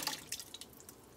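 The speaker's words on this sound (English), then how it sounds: "And now it's time to add our sauce, our liquid." Water is poured into a soup pot for a chicken and lima bean soup, giving faint, close splashes and drips in an uneven patter.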